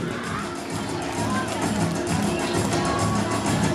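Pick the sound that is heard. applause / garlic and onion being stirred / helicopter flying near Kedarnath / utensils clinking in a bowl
applause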